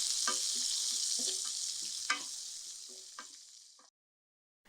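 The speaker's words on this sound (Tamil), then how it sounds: "இதை வந்து லோ ஃப்ளேமில் ஒரு மூணுலேருந்து நாலு நிமிஷம் நல்லா வதக்கி எடுத்துக்கலாம்" Onions sautéing in a pan over a low flame give a steady, close sizzle broken by a few stirring scrapes and taps, then stop abruptly near the end, with no voices.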